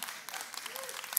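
Light applause from a few people in a church congregation, brief and fairly faint, with a preacher's voice audible over the scattered clapping.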